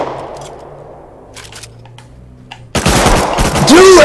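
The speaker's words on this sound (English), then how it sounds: "Dude, I can't hit my shots." Gunfire in the video game Rust comes as a loud, sudden burst of rapid shots after a few seconds of quiet game ambience and faint clicks, continuing dense and harsh to the end.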